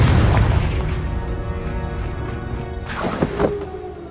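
A Confringo fire spell in Hogwarts Legacy bursts with a loud explosive boom near the start, followed by rumbling game noise and a second sharp crackling blast around the three-second mark.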